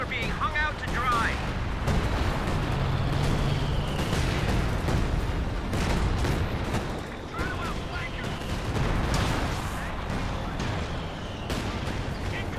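Artillery barrage in a World War II video game, with dense, continuous rumbling blasts and booms that roll steadily without pause, loud and close throughout.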